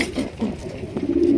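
A Maxi racer pigeon coos in a series of soft, low, repeated throaty calls, close and clear with no talking.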